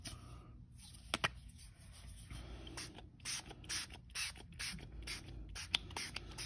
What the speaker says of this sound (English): I'm going to spray very close to that cardstock